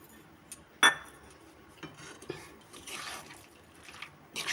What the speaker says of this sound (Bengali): এবার এই মশলাটা সব এর মধ্যে মিশিয়ে দেবো